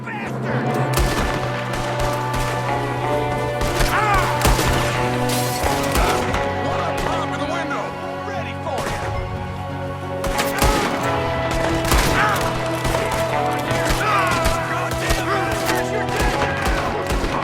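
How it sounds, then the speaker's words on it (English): Red Dead Redemption 2 gunfight against O'Driscolls in snow: loud, dense bursts of gunshots and rapid fire ring out repeatedly over a continuous music bed throughout. "Before you know it, we're in the thick of a gunfight."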